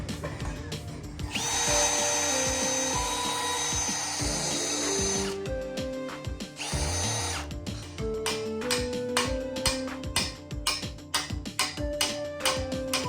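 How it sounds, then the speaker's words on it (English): An electric drill whirs loudly in sustained bursts during a rock slider install on a 100 Series Toyota Land Cruiser, revving up and down with short stops between runs, close by. "Did you get the drill stuck again?"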